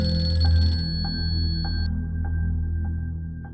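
Telephone ringing in repeated short electronic pulses over a low rumble, steady and fairly close, fading slightly toward the end.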